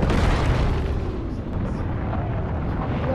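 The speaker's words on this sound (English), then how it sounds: "then the volcano erupts" A volcano erupts in the Fortnite video game as a sustained, loud, rumbling roar with dense booming bursts that keep going without a break.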